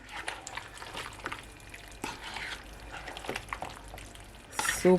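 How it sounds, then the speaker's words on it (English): Brown stew chicken pasta being mixed in a pot, wet squelching and scraping stirs repeating at close range over a low simmer, with a brief louder clatter at the end. "You just wanna mix it in so everything will combine."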